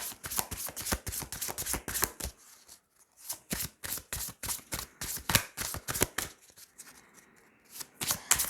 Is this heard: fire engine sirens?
no